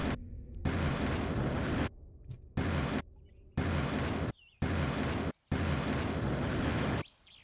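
Bombs explode in a video game as a run of loud, broadband booms, five or six separate bursts each lasting about a second with short gaps between, close and with no talking.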